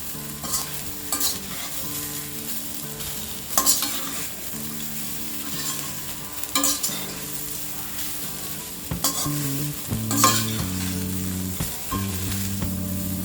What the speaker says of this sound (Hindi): इसे हम 2 मिनट तक और फ्राई करेंगे।